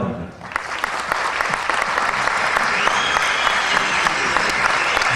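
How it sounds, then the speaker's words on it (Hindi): Sustained applause from an audience welcoming the poet Meera Dikshit onto the stage at a poetry event, a dense, steady wash of many hands clapping that holds loud throughout, with no speech over it. "जोरदार तालियों से स्वागत। तालियों की गूंज आपकी रुके नहीं।"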